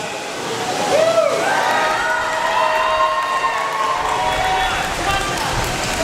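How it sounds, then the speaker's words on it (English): A convention panel crowd at Indy PopCon roars with sustained cheering, whooping and applause, a dense wash of noise with voices rising and falling in shouts. "I want to hear a show of applause and noise."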